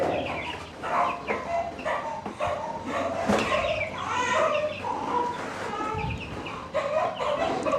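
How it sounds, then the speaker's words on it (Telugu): Chickens and chicks cluck and cheep continuously at close range as they are let out at a small country hen farm, forming a busy overlapping chorus of calls. "ఇప్పుడైతే కోళ్ళ పిల్ల అయితే వదులుతున్నాం"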